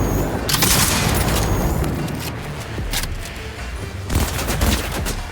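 Rapid bursts of gunfire from a gun in the video game Cyberpunk 2077, dense and loud, with repeated sharp reports and booms over continuous game noise.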